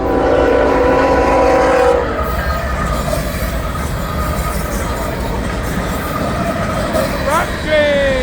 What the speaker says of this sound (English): I ran right into this northbound train